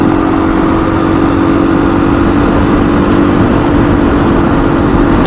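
A motorcycle cruising at about 55 mph on the road drones steadily with a smooth, even engine hum and heavy wind rumble, loud and unbroken throughout.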